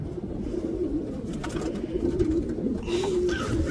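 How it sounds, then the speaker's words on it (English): A racing pigeon coos softly and close by in low, throaty rolling phrases that repeat, with a quiet background hum. "Look what a gorgeous pigeon."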